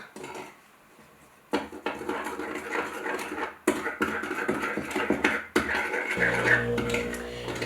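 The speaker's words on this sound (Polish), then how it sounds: "w miseczce mam 200 g śmietanki, i do śmietany daję 2-3 łyżki cukru i wszystko mieszam" A spoon stirs 200 g of cream with two or three spoonfuls of sugar in a small bowl, giving light clinks and scraping against the dish in short irregular bursts, close and alone.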